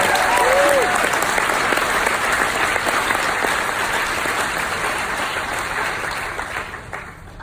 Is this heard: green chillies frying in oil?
no